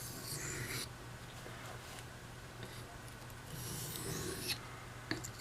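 A knife blade is drawn in light strokes across a new sharpening stone, a soft, close rasping and scraping that swells and fades in repeated passes, quiet with no speech.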